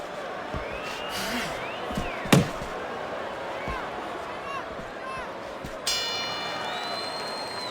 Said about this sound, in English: And the bell rings, signifying the end of the round.